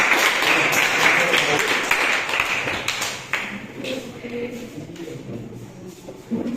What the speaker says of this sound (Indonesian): Tepuk tangan dulu untuk nomor 1